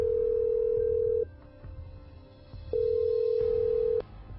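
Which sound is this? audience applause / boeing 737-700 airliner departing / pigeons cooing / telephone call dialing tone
telephone call dialing tone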